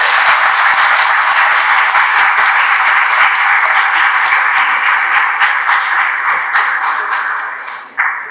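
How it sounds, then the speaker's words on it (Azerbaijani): A hall of students gives war veterans a loud, sustained round of applause: dense, continuous clapping that holds steady and fades slightly at the end. "alqışlayırıq qazilərimizi"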